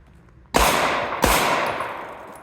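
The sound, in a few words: gunshots, follow-up shots practising recoil control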